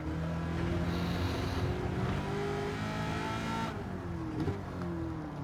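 A supercharged 6.2 engine in a Chevrolet Camaro ZL1 drones steadily at high revs in Gran Turismo 7, loud and close, with a brief shift in pitch partway through and no voices.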